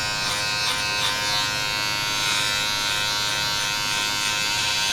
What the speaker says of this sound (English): With your clipper all the way open.